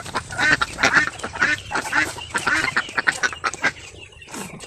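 Domestic ducks (itik) on a Philippine duck farm quack in a dense, continuous chorus of overlapping calls, close and fairly loud throughout.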